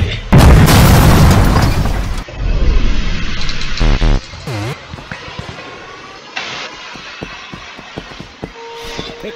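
Loud gunfire bursts and booming blasts from the Henry Stickmin Collection video game open the scene, followed by sweeping sci-fi whooshes, electronic tones and scattered clicks, with game characters talking between the effects.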